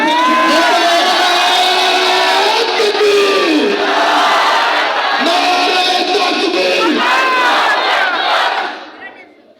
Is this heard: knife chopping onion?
no